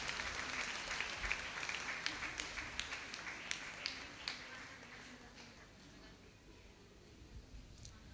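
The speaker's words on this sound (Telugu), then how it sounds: "అందరూ గట్టిగా చప్పట్లు కొట్టండి" An audience claps at a church festival, with rapid irregular applause that is fairly faint and gradually thins out toward the end.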